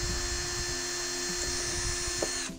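High, steady whine of a small drill boring holes into a nut to make an oeoe whistle, a continuous close tone running nearly unbroken before cutting off at the end.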